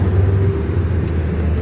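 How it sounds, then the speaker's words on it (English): Deep, loud low rumble of a garbage truck idling right alongside, a steady engine drone close by with no voices. "it's a garbage truck. And he parked right beside me."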